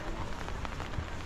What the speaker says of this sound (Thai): เพราะว่าฝนตกห่ำเห็นบ่